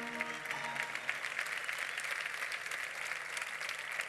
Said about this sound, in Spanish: Ese aplauso que ya tenemos aquí